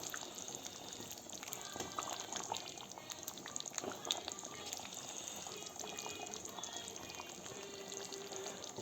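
Goat curry bubbles in a pot with soft simmering and gentle stirring, a quiet close wet burble that continues steadily.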